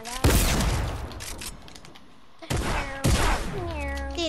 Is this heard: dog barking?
no